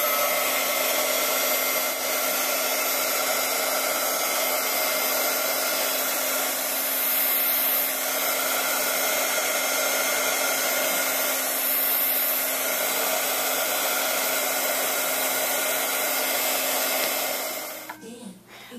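A heat tool warms Perfect Pearls shimmer on a hummingbird card, its steady close whooshing blow holding evenly for about seventeen seconds before cutting off at the end.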